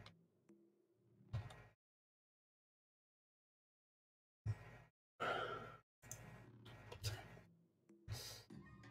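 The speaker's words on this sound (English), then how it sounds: "I'm yawning way too much." A person yawning and sighing during a Caves of Qud gaming session, several drawn-out breathy exhalations separated by a long silent gap, close and soft.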